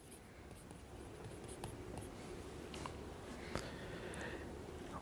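Chalk or marker scratching out the words "pyramidal tract" on a board in a quiet lecture room, with short faint strokes and taps over a soft background hiss.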